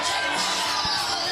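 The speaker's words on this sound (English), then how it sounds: "really getting the entire crowd here at the Red Chevron Club all the way behind her" A wrestling crowd at the Red Chevron Club in Guelph cheers and yells at a steady roar, dense and continuous, from a 365 Pro Wrestling event.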